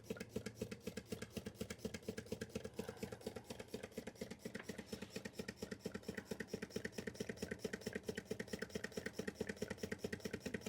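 A Rider-Ericsson hot air Stirling engine pump runs steadily, giving a faint, fast rhythmic chuffing and clicking that repeats evenly throughout with no voices.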